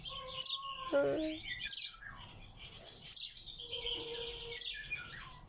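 Common chaffinch chicks chirping close by, high thin peeping calls repeated in quick bursts with a few lower squeaks, indoors in a soft handmade nest.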